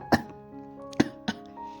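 A man coughs suddenly in short, sharp bursts: one at the start, then two more close together about a second later, each brief and fairly loud, alone.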